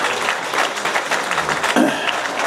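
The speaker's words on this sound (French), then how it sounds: "tu vas encore l'applaudir." A crowd at a live talk gives lively applause, close and fairly loud. The claps overlap into a steady wash that runs throughout.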